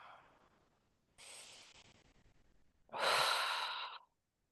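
Slow, close breathing during a forward fold stretch in a gentle yoga session, with a soft exhale, then a pause, then a longer and louder breath.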